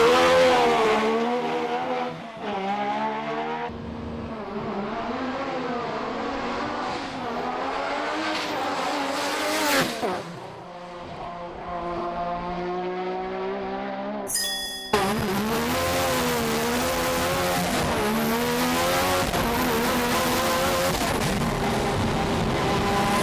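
A Nissan GT-R on radial tires runs a 0-400 m drag pass in 1999, its engine roaring loudly and climbing repeatedly through gear shifts, with a sharp jump in intensity midway and sustained high-revving howl.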